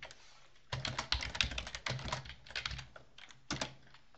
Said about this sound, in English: let's type it at the top of the game